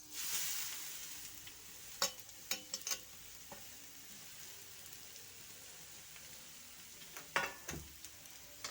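Grated beetroot frying in hot ghee gives a quiet, steady sizzle, broken by a few sharp clinks of a spoon against the pan near the start and again near the end.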